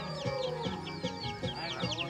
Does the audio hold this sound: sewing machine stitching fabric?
no